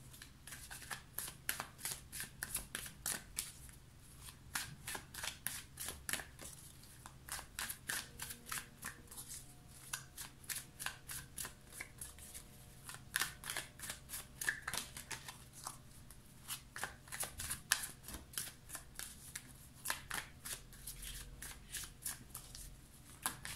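A deck of tarot cards is shuffled by hand in a quiet room, giving a long stream of rapid, light riffling slaps. Brief pauses break the flurry.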